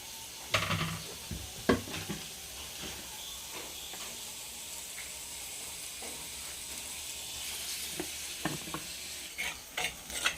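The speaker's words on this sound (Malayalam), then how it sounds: "സവാള പെട്ടെന്നൊന്ന് വഴഞ്ഞ് വരട്ടെ" Chopped onions frying and softening in a pan, a steady broadband sizzle with occasional louder stirring scrapes and clatters of a spoon against the pan, close and continuous.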